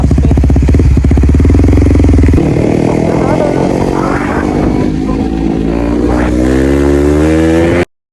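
A moped motorcycle is ridden flat out at top speed, its engine whining loud and close with rising and shifting pitch through the gears, buffeted by wind, until the sound abruptly stops.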